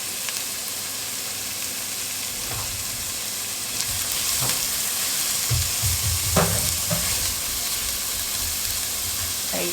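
Onions and carrots hiss and sizzle in a hot soup pot, a steady bright frying sound, with a few close stirring scrapes and knocks and no talk.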